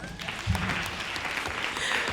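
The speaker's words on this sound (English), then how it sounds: "Give them a round of applause." A room of people at a Black business month mixer gives a round of applause, with a full, continuous crowd clapping that stays fairly even from start to finish.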